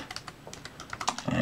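Brief burst of typing on a computer keyboard, a quick run of soft, close key clicks lasting about a second and a half.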